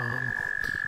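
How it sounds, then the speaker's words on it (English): Frogs croak in a dense chorus at a pond in spring, with a steady high-pitched trill from spring peepers running throughout, close and continuous. "you can hear the frogs and peepers"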